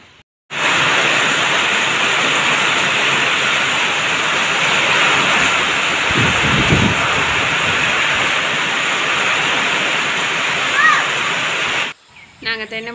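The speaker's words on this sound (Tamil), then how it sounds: "பார்த்தீங்கன்னா மழை வந்துருச்சுங்க" Heavy rain pours down steadily at a coconut seedling planting in a garden, a loud, dense broadband hiss that continues without a break for about eleven seconds before stopping abruptly.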